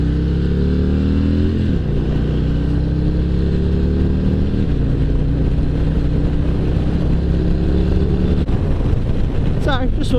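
Harley-Davidson Road Glide motorcycle engine revving, a loud, deep rumbling exhaust climbing and falling in pitch through several throttle blips, close by, with a rider's voice partly heard over it.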